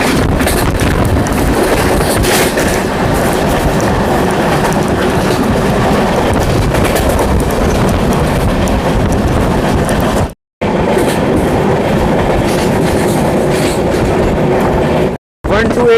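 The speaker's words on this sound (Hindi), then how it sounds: "High speed platform skip." An Amrit Bharat Express train rushes past a station platform at high speed, a loud, continuous roar of wheels and rushing air with rail clatter and wind buffeting throughout, broken by two brief dropouts.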